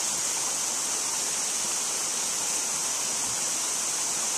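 A river stream flows steadily, a constant bright hissing rush of water close by, loud and unvarying from start to finish with no voices.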